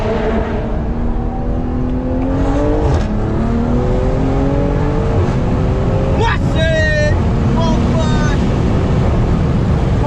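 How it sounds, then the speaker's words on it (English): A turbocharged Stage 2 2020 BMW M340i making about 600 horsepower accelerates hard through the gears: loud, rising engine pitch sweeps, a brief shift, then whistling turbo spool and whooshes, with people talking over the car. "you hear the turbo a while ago?"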